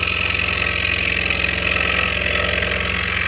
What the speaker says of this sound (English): So it's pretty much normal cutting on the Scrollsaw.